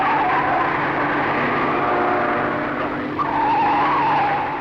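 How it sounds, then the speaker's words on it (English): Race car tyres squeal continuously under a roaring engine at the 1965 Armstrong 500, Mount Panorama, Bathurst, loud and close, with the pitch of the screech wavering throughout. "you can hear the rubber squeal"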